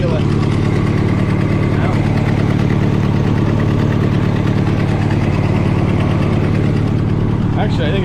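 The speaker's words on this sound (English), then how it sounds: "Does have an exhaust leak here somewhere." An idling engine with an exhaust leak, likely at an elbow joint, makes a steady, close, loud rumble throughout, while someone speaks briefly over it.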